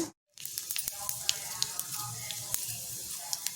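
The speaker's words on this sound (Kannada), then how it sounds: "ಬಾಂಡ್ಲಿಗೆ ಒಂದೆರಡು ದೊಡ್ಡ ಚಮಚ ಆಗೋಷ್ಟು ಎಣ್ಣೆ ಹಾಕ್ಕೊಂಡು ಸಾಸಿವೆ ಹಾಕಿದ್ದೀನಿ ಇದು ಚಿಟುಗುಟ್ಲಿ" Mustard seeds pop and splutter in a couple of spoonfuls of hot oil in a pan, with a steady close sizzle and scattered sharp crackles throughout.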